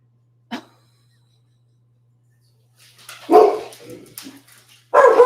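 A few dog barks, one short bark early, then a louder burst of barking with a final bark at the end, close by, with brief silence between.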